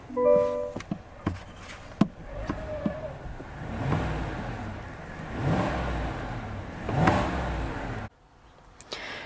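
The 5.3-liter V8 in a GMC Sierra Denali pickup revs in a few swelling bursts that rise and fall, with sharp clicks at the start and a sudden drop to near quiet at the end.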